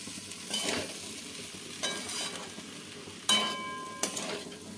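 Freshwater snails (gugli) fry in a pan, a steady sizzle broken by four loud scraping stirs, each a short rasping burst, close and without speech.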